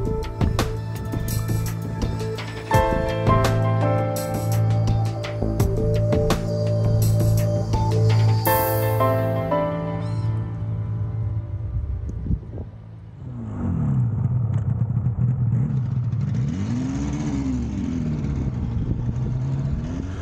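A Yamaha RD350 YPVS two-stroke motorcycle being ridden, the engine revving up and down through gears in a loud, buzzing run, then a drop in pitch as it slows, heard up close without talk.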